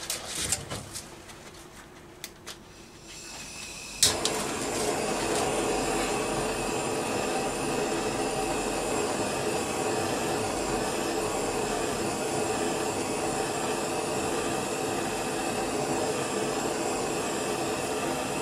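A paint stripper heat gun roars with a steady broadband blowing hiss while stripping underseal from a Rover P6 V8, rising abruptly after a few seconds of quieter scraping and clatter and holding constant and close until the end.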